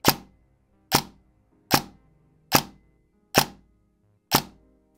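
An airsoft gun fitted with a Warhead RONIN brushless motor, EFCS and active brake fires six single shots. Each is a sharp, loud, close report at an even, unhurried pace, with nothing else heard.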